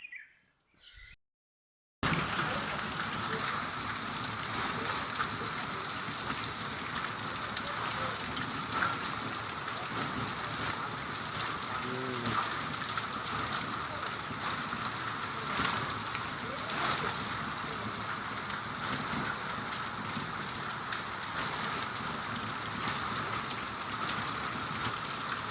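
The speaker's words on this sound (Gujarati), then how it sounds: "વરસાદ સારો એવો પડી ગયો છે" Heavy rain falling in a village, a loud continuous wash of drops on surfaces that holds steady for the whole stretch after a brief quiet start.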